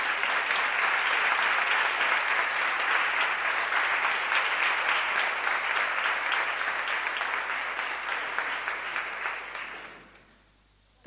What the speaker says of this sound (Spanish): Un aplauso al Espíritu Santo.